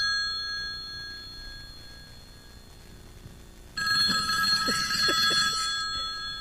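A telephone rings in a live radio talk-show studio. Faint electronic tones hum at first, then a loud, bright ring bursts in partway through with a few soft knocks beneath it. The ring continues steadily to the end.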